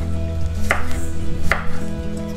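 A knife slices carrots into thin strips on a board, giving two distinct, sharp cuts about a second apart over a steady low hum, with no talking.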